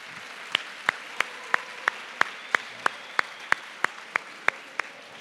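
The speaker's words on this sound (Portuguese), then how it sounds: "uma salva de palmas" Audience at the Senac Rio Summit gives a round of applause, heard as crisp, evenly spaced claps in a steady rhythm of about three per second over a quiet background.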